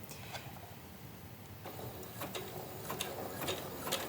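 A sewing machine running a zigzag stitch along the raw edges of a canvas tote bag, a quiet, steady mechanical whir broken by a few soft rhythmic clacks.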